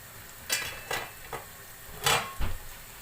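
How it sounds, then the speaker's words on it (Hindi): Golden fried onions for chicken biryani being stirred in a pan, with a few distinct scraping strokes over a faint low sizzle, quiet and close. "हिलाएंगे यहाँ हम प्याज को"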